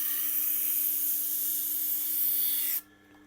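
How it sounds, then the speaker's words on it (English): A knife is ground on a Tormek Blackstone sharpening wheel, giving a steady, bright hissing rasp that holds evenly for nearly three seconds and then stops abruptly, leaving a low motor hum. "Now I'm going to grind it down just a little bit finer."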